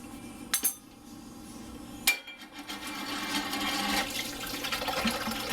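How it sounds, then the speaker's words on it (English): Running water splashes as hands are washed at a sink, a steady close stream punctuated by a couple of sharp clinks and knocks, with no talking. "now we'll wash our hands"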